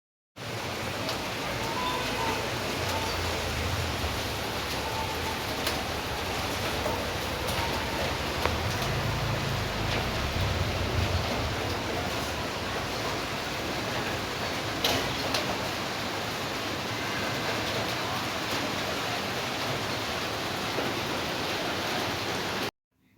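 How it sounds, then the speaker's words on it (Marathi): Heavy rain pours down outdoors in a broad, constant hiss that holds steady at strong volume for over twenty seconds, with faint ticks of drops striking surfaces and no talking. "अचानक हा एवढा जोरात पाऊस सुरू झाला मी तुम्हाला पाऊस दाखवते किती जोरात सुरू झाला आहे"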